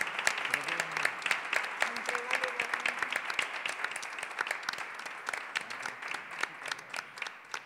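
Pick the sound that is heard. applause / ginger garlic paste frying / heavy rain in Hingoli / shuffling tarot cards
applause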